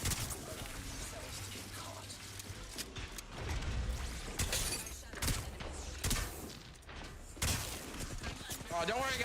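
Rapid bursts of video game gunfire crack and clatter through a busy firefight, repeated shots and impacts stacking up loudly while players talk over the action.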